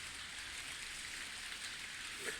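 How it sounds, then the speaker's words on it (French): Steady rain falling on a Saturday morning, a continuous even hiss of drops on surfaces with no pauses, heard alone throughout. "Voilà, samedi matin, il pleut."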